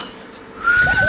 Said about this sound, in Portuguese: Aquele seu jeito de assobiar é estranho.